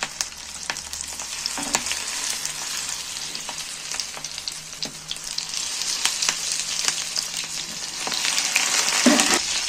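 Leaf-wrapped parcels of spiced bean paste sizzle in hot oil in a pan, a continuous bright frying hiss dotted with sharp crackles and pops, swelling louder toward the end.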